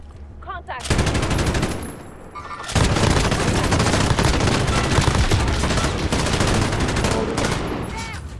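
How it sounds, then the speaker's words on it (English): Rapid bursts of automatic gunfire crackle in Call of Duty Warzone, loud and sustained, breaking briefly before resuming in long sprays with a few sharp shots. "I'm taking shots. That guy just got riddled with bullets."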